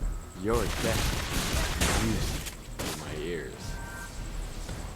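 Gunfire from Granger, a hero in the Mobile Legends video game, comes as a few quick shots and bursts layered with game effects, while a player talks over the action.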